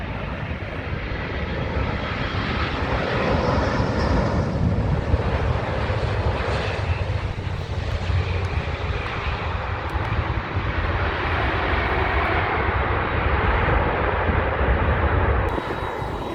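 A Qatar Airways Boeing 787 Dreamliner at London Heathrow produces a sustained, loud jet roar with a broad rushing rumble that swells and holds, then eases near the end.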